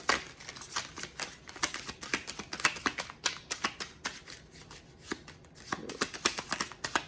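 Tarot cards shuffled by hand in a steady, close run of crisp flicks and riffles, continuous for several seconds with no talking.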